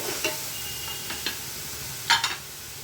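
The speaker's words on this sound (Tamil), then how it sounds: "இஞ்சி பூண்டு வாசனை போகிற வரைக்கும் நல்லா வதக்கிக்கணும்" Onions with ginger-garlic paste and pepper powder sauté in a kadai for kada mandi biryani, a low steady sizzle under a few sharp scraping stirs of the spoon against the pan, close and alone.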